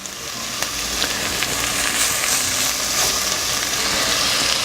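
Onion frying in hot oil with garlic in a pan, making a steady, dense sizzle that runs loud and continuous throughout, with a few faint clicks from stirring.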